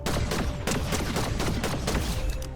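Megalith rifle firing at an opponent in a shooter game, a rapid series of loud, close, sharp bursts in an uneven rhythm across a couple of seconds, with no talk.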